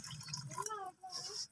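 Water splashes and trickles into a pan of potato kurma for poori, a brief, close, gentle pour with a voice speaking over it.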